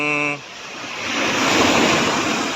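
Large ocean waves roar and crash close by at a boat landing on a shore, a broad rushing surge mixed with wind buffeting the microphone, after a brief tonal sound at the start.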